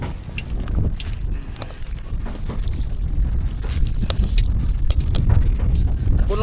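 Strong wind gusting outdoors at an open-air cooking site, a loud steady low roar with buffeting against the microphone, scattered clatter and occasional faint voices underneath.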